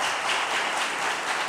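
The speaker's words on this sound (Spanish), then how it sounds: "un aplauso para ellos, estos voluntarios" Congregation in a church applauding a few volunteers, a steady wash of many hands clapping together at moderate volume, sustained and even throughout.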